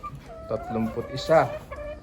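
Hens cluck in short, uneven bursts at a game farm, fairly close, with a voice talking over them.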